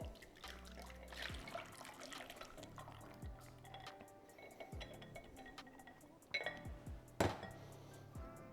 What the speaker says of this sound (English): And now we're going to pour it back into our pot.